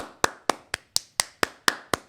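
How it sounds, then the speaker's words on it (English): Sharp, evenly spaced claps, about eight in a steady rhythm, close and clear with no talk over them. "Clap it up for Drew got sauce."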